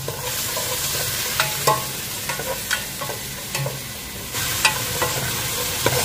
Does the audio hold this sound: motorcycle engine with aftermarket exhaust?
no